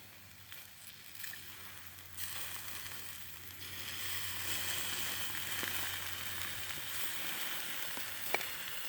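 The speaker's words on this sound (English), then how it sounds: "listen to that sizzle" Steady close sizzling of lamb chops cooking on a homemade portable wood grill, a constant hiss that grows slightly louder, with a few faint clicks.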